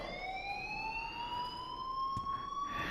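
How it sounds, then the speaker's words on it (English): A faint, continuous electronic alarm tone in the Life is Strange video game, slowly rising in pitch and droning on steadily without a break, heard alone at low volume. "please turn off that alarm since that's your job"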